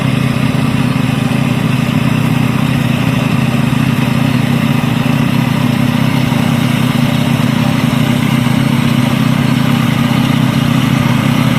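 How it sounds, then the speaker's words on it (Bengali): Paddy rice harvesting machine running in the field, a loud steady engine drone with a constant mechanical whir, close to the microphone and unbroken, with no talk. "মেশিনটা দেখো বন্ধুরা কি দারুন ধান কাটা মেশিন"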